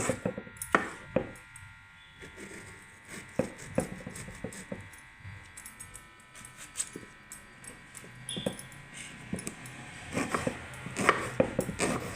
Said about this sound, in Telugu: ఇలా అన్నీ కట్ చేసుకోవాలి